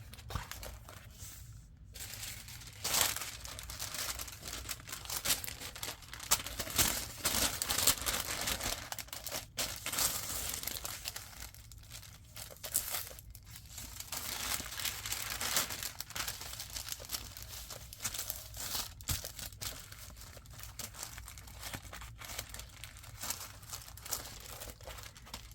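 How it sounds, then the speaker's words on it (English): Wax paper crinkles and rustles as it is tucked between the pages of a handmade faux leather ledger art journal, crisp bursts of crackling that come and go for about twenty-five seconds with no talking. "I'm going to put some wax paper back in here, just so we have a little bit of protection so pages aren't gluing together."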